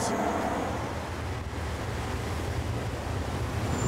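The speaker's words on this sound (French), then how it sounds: "C'est les assauts répétés des vagues qui finalement finissent par démanteler la route." Surf from the sea at a Caribbean shoreline in the Antilles, waves breaking against a rock-armoured coastal road, a constant loud wash with wind buffeting the microphone.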